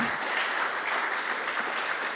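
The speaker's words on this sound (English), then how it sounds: "Let's have a big round of applause for Andrea, Mollie, and Boxer" A workshop audience applauds steadily for a short burst, a dense, even patter of many hands heard on its own.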